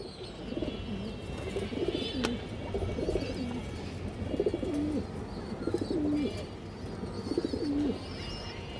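Pigeons cooing, a repeated low rolling coo that comes back about every second and a half over steady background hum and rustle, fairly close.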